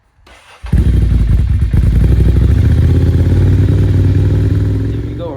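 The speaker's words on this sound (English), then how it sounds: "Let's start her up and see how it runs." A Ducati Monster 696 motorcycle cranks briefly, then its engine fires and settles into a loud, close, steady idle with a throbbing rhythm that gradually eases slightly toward the end.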